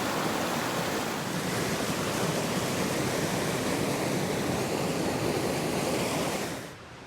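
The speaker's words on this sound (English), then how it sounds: "I'm about 100 yards from the river. You can probably hear it." Steady, dense roar of a rushing river about 100 yards away on the Pacific Crest Trail fills the scene without a break, then drops away abruptly at the very end.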